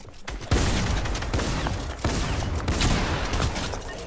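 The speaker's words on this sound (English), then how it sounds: "I shot through the wall." Gunshots fired through a wall in the video game Fortnite, a loud, continuous crackling barrage with sharp hits throughout and no voices over it.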